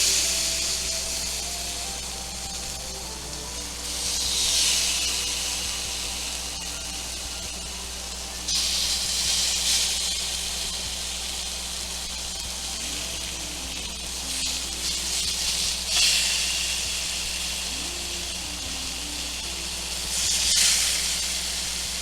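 Butter lemon shrimp skewers hit a hot grill with a steady, close hiss of sizzling that swells and fades in several loud bursts as fat and butter spatter, with faint background hum beneath.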